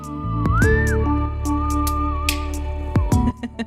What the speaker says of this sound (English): I whistle and I sing. So there we whistle.